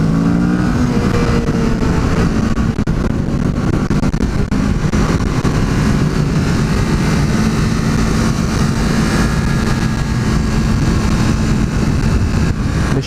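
A Kawasaki Z650 motorcycle on a test ride, its engine droning loudly and continuously under heavy wind rush as it pulls along the road, with a steady rising engine tone close to the rider.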